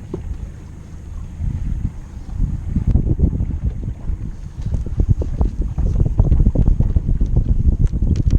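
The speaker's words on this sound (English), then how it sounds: "Wind's pretty strong." Strong wind blows across open water during a catfish fishing trip, with a steady, loud low rumble and gusty buffeting against the microphone that grows more intense partway through, and no voices.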